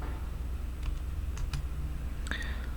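A handful of sparse, distinct keystrokes on a computer keyboard, typing a short answer into a command-line prompt while cloning a GitHub repository; soft separate clicks over a quiet room, with no talking.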